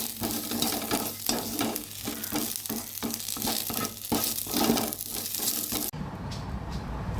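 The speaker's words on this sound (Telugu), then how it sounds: "ఇలా ఫ్రై చేయటం వల్ల కారము పాడవకుండా" Spices sizzle and are stirred in a hot pan while being roasted for a stone-ground chilli powder, a steady crackling fry with rhythmic scraping strokes, close and fairly loud throughout, with no talking.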